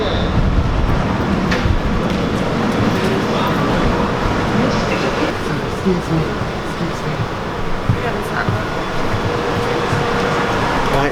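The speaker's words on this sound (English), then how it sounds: "Right, so we're in the tube now, in the train." Crowded London Underground tube train in motion, a steady loud rumble and rattle of the carriage running throughout with brief clicks of the track, while people speak nearby.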